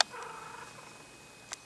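Newborn Maltese puppies make a soft, low purring sound close by, a faint continuous rumble with a brief squeak near the end.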